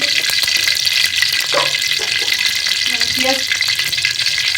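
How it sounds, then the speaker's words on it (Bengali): Chicken fries in about two and a half tablespoons of oil for chicken biryani. A loud, continuous, close sizzle fills the whole stretch, with faint clinks of a utensil against the pot. "আমি এখন চিকেনটা রান্না করে নিব। বিরিয়ানি চিকেনটা আমি ফার্স্টে তেল দিয়ে দিলাম"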